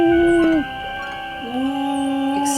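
A dog howls in the mystery game Nancy Drew: Ghost Dogs of Moon Lake: a long, clear, sustained wail that breaks off, then resumes with a rising pitch and holds steady, loud and near.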